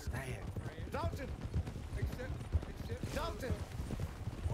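Horse hooves clip-clopping in a Western roleplay video game, a steady rhythmic trot heard close and running throughout, with voices talking over it.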